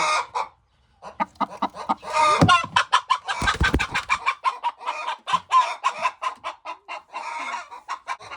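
A hen clucks over and over in quick, uneven bursts, close by and fairly loud, with a few sharper squawks mixed in, near broken eggs in the nest.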